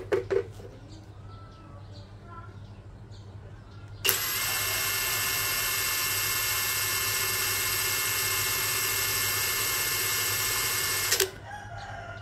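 A Dongcheng DCPB689 cordless impact wrench, set to low speed, spins up abruptly and runs at a steady high-pitched whine for about seven seconds before cutting off, with a few faint knocks before it starts.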